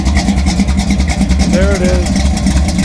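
The rebuilt engine of an SC/Rambler car idles with a close, loud, steady rhythmic rumble while someone speaks briefly.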